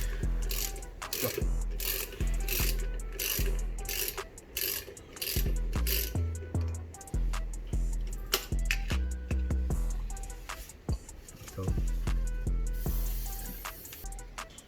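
A thread tap is worked into the stud holes of a wheel hub during a 4/100 to 5/100 PCD conversion, giving repeated ratcheting clicks and metallic turning strokes in a steady rhythm, close and alone.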